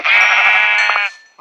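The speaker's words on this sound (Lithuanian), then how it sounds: "O, avis." A sheep bleats in the game Minecraft Pocket Edition, a single clear drawn-out wavering baa lasting about a second, loud and close with no other sound around it.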